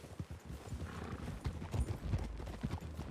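Horse hooves clip-clop continuously on the ground in Red Dead Redemption 2 as riders move through trees toward a clearing, a steady uneven trotting rhythm of several horses, moderately close, with no speech.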